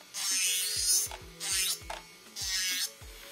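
An electric nail drill with a carbide bit grinds down very long nails in three short passes, a faint buzzing rasp separated by brief pauses, with light tapping underneath.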